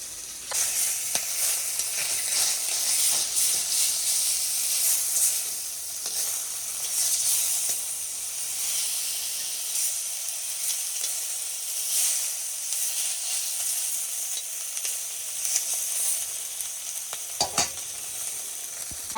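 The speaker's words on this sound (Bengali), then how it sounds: "তেল গরম হয়ে গেছে আমার কড়াইটা সুন্দর লোহার কড়াই ফ্রাই প্যান লাগে না" Fish sizzles steadily in hot oil in an iron wok outdoors, a continuous bright crackling hiss that holds across the whole stretch with brief stirring touches, loud and close.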